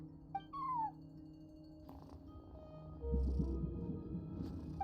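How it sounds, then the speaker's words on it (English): A short meow from a cat at a front desk in a video game opens the clip, followed by a low hum and game background sounds, then a louder rumbling bed of effects near the end. "No one except for a cat watching over the front desk."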